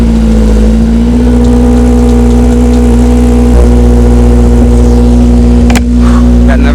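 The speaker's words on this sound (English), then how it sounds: "we got to get a cold start up from the S2000" A Honda S2000 cold start: a loud, close engine drone with a deep, steady tone that lifts slightly as it revs and holds a high fast idle, with one brief sharp blip near the end.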